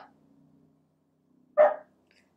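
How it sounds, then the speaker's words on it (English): A pet dog gives a single sharp, fairly loud bark indoors, alone against a quiet room with faint background hum. "Sorry, my dog."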